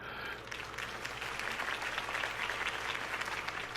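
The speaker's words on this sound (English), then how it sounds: "If only Mr. Wayne, my campaign's largest backer, could have heard that applause" A crowd claps steadily after a political campaign speech in the Batman Telltale game, a dense, even wash of applause that holds for several seconds with no one speaking.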